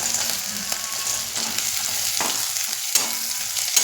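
Green chilies and peanuts fry in oil in a pan for kande pohe, giving a continuous close sizzle with occasional stirring clicks and no voices.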